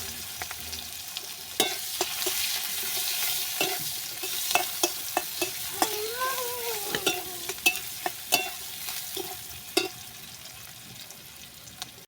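Chopped onion tipped into a pan of frying chicken marinated in mustard oil, with steady sizzling and repeated spatula scrapes and clacks against the pan, close and moderately loud, no talking.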